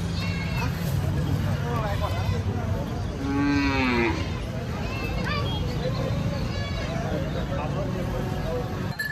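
Cattle and bulls mooing loudly amid a noisy livestock market in Chalisgaon, with a long low moo standing out around the middle over steady crowd chatter.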